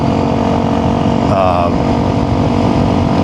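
A Honda CRF300L dirt bike fitted with a Yoshimura full exhaust runs steadily at close range, its engine drone continuous and loud throughout with no break.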